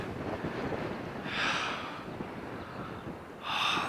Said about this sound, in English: The wind, that's what I'm needing, the wind.